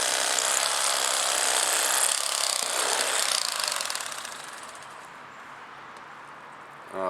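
A Bubba Blade lithium-ion electric knife trimming fish, its blades buzzing with a close, harsh rasping whir that fades down toward the end.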